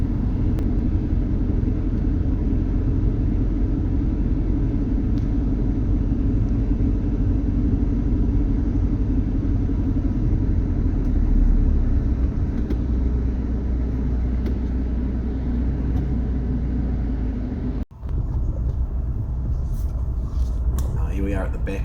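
A car drives through a town's back streets, its engine and tyre rumble a steady, close, low drone inside the cabin, with a brief dropout near the end and a voice talking over it.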